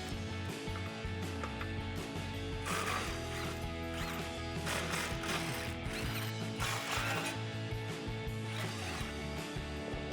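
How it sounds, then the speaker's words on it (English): Ratchet with a 15mm socket backing out the factory bumper bracket bolts on a 2016-2018 Chevrolet Silverado 1500, giving bursts of rapid clicking that stop and start over a low mechanical hum. "There's 3 15mm bolts, so grab your 15mm socket and let's get these removed."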